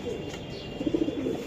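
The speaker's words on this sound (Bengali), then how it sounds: "এটা একটা পাইট কবুতর" A racing pigeon gives a short burst of soft throaty cooing near the end, close by, over a steady background hum.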